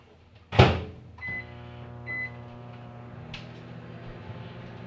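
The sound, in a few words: microwave oven heating a spoon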